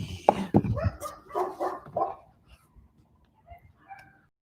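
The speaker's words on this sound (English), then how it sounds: "Dog's going crazy today." An excited dog barks several times in quick, sharp bursts near the start, then trails off into softer yips and whimpers as the clip grows quiet.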